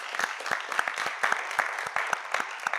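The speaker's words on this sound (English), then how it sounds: "Let's give them a well-deserved round of applause." Steady audience applause for school debate teams at a televised debate competition, a dense, even clapping from a crowd, with several nearer claps standing out over the crowd's sound.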